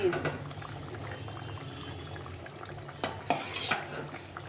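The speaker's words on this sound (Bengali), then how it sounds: "ঝোলটা ফুটে গেছে, এখন আমি এই বেগুনগুলো দিয়ে দেবো।" Fried eggplant pieces go into a simmering fish curry with winter flat beans and tomato: a soft bubbling sizzle under low murmuring, broken by a couple of clattering drops and stirs toward the end.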